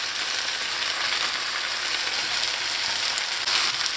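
Provision and saltfish (cassava, green banana and salted cod) is stirred in a pot, giving a continuous close sizzling, hissing rustle with no talk.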